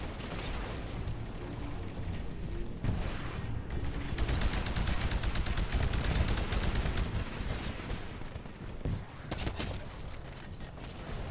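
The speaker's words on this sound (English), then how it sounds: "Damn that smart pistol." Rapid pistol gunfire from the smart pistol in Titanfall, a dense run of close, loud shots layered over explosions and mechanical battle noise, sustained throughout with no pauses and no talk.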